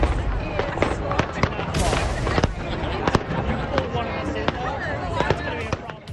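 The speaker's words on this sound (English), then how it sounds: "the constant sound of cannons firing and echoing off the buildings downtown is pretty" Cannon blasts fire during the Gasparilla pirate festival downtown, echoing off the buildings as repeated sharp booms and cracks at irregular intervals, some near and some distant, over a busy crowd din with voices.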